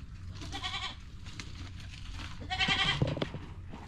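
Goats bleat loudly during injections of dewormer and vitamins, with two or three strained, wavering cries close by and handling noise in between.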